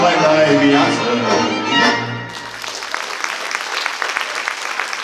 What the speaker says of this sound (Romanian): Mulțumesc, mulțumesc, iar mult pentru aplauze